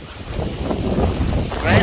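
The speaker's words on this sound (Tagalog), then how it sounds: "Wow, ang hangin, baby!" Strong gusts buffet the microphone on a mountain view deck in Kabayunan, DRT, Bulacan, a steady low roar with a brief voice near the end.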